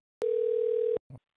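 A telephone dial tone sounds on a phone line after a call cuts out, one steady pure tone lasting under a second and then stopping, followed by a short low burst.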